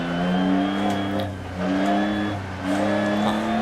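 A Lancia Stratos rally car engine revs hard in repeated surges, rising and falling pitch with gear changes, loud and close, in the video game Dirt Rally on a Monaco stage.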